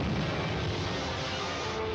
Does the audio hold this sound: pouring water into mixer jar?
no